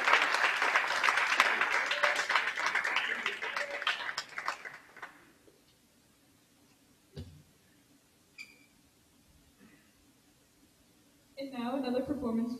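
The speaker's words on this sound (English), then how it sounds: "let's give these two a round of applause for everything they've done this week" Audience applause at a closing ceremony, a full round of clapping for about five seconds that dies away into near silence with a few small knocks, then a person begins speaking.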